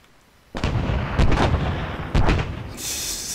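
Explosive detonations in the military sim game Arma, a loud close sequence of three heavy booming blasts with rumbling tails over roughly two seconds, then a brief hiss at the end.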